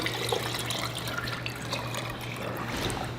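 Melted tallow poured out on a farm, a steady liquid trickle and splash with a faint low hum underneath and no talking.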